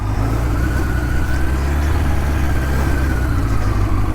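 A 1977 Suzuki GS550 motorcycle engine idles steadily with the choke on, a close, loud, even mechanical drone holding constant with no talking.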